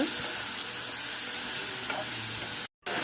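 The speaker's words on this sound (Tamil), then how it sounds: "சிக்கன் ஆட் பண்ணிவிட்டு நல்லா ஒரு மிக்ஸ் பண்ணிக்கோங்க." Chicken pieces sizzling in a hot pan while being stirred, a steady close frying hiss with soft scraping throughout and a brief dropout near the end.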